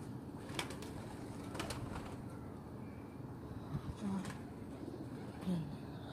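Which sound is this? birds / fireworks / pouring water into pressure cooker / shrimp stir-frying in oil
birds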